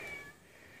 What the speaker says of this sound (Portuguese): quem mais tá miando aí?